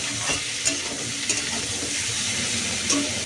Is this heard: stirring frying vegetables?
yes